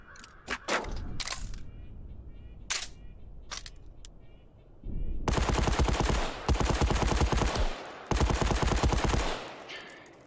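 SMG in the VR game Contractors VR, first a few single sharp shots with pauses, then loud sustained bursts of rapid automatic fire at a steady rate, broken by brief gaps.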